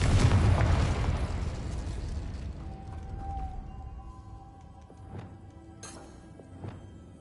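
A Confringo blasting spell detonates in Hogwarts Legacy: a loud, deep blast opens and fades into a long, rolling rumble, followed by a few faint clicks and small pops.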